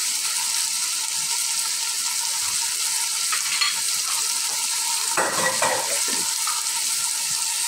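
Whole cumin seeds sizzle and fry in a cooking pot for a traditional Sylheti akhni dish, a steady close hiss with a brief scrape of stirring partway through.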